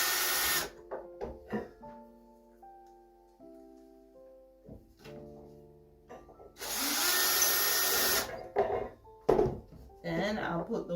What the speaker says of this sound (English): Go ahead and put the screws through.